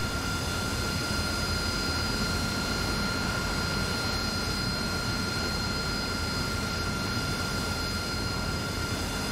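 Aircraft engine roaring steadily in the DCS flight simulator game, a constant loud jet drone with a high whine running throughout, with no voices.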